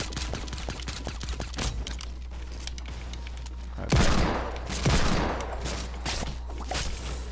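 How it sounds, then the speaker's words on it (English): Suppressed pistol shots in a video game firing in a burst of muffled cracks, two heavier thumps standing out midway over a constant low drone, with no voices. "That suppressed pistol killed me quick as fuck."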